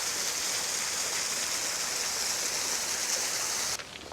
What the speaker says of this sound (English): Probably just an irrigation runoff, but we'll call it a waterfall.